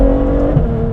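Ferrari F12 V12 fitted with an Armytrix exhaust, driven in race mode with its seven-speed dual-clutch gearbox, gives a steady, loud, close engine drone with a sharp downshift blip partway through.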